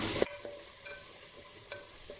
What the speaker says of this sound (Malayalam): ഇനി ഇതിലേക്ക് ഒരു 1/4 കപ്പോളം അരിഞ്ഞു വെച്ചിരിക്കുന്ന ക്യാരറ്റ് ചേർത്ത് കൊടുക്കാം. നന്നായിട്ടൊന്ന് മിക്സ് ചെയ്ത് കൊടുക്കാം